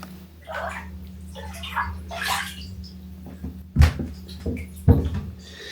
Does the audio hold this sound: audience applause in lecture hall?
no